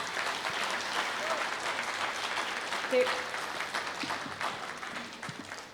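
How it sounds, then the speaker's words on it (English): Audience applause after a leadership session: sustained, even clapping from a sizable crowd, fairly distant and steady, slowly tapering off with a few faint voices underneath. "Can we give a huge round of applause?"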